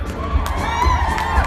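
A convention audience at NashCon 2016 cheers and screams in a dense, sustained wall of crowd noise, loud and close, with overlapping shrieks and yells throughout.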